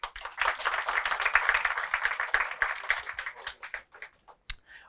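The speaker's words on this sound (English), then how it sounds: "Can we have a little round of applause for Nivedita?" A small audience in a lecture on problem definition case studies claps for a student named Nivedita, a brief ragged round of applause that swells quickly and then tapers off into a few scattered claps.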